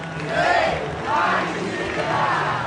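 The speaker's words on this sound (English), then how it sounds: "No amnesty is the chant ringing out here and in other Brazilian capitals" A large rally crowd at Copacabana beach chants "no amnesty" in rhythmic, rising-and-falling waves of voices, repeating the phrase three times.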